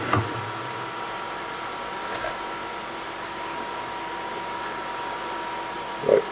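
A Muin HJ-1238 soldering fume extractor fan runs with a steady, moderate whir and faint tonal hum, close by and fairly quiet, with a couple of brief knocks.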